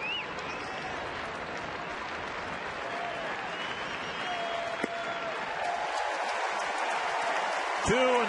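Crowd of over 40,000 at a baseball stadium for Detroit at Minnesota, a broad continuous roar of cheering and applause that swells toward the end, with a commentator's voice over it.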